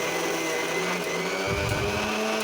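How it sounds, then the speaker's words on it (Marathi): A mixer grinder grinding sesame whirs loudly and steadily at close range, its motor pitch dropping and growling briefly midway before resuming. "तर आपण मिक्सरमधून हे छान बारीक करून घेतलेले आहे"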